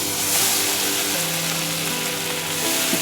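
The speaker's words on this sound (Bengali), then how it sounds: "এই মশলাটাকে এখন আমি কষিয়ে নিব" Ground cumin and ginger paste fry in a pan for a Bengali fish-egg and potato curry, giving a steady, close, even sizzle with faint scraping, and no talk.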